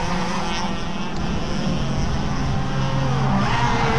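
Race cars roar through a corner while overtaking, a continuous dense engine drone with shifting pitch heard from a moderate distance, steady and loud throughout.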